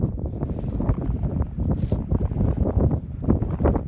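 Gusty wind buffets the microphone in uneven bursts, a rough low rumble that rises and falls throughout.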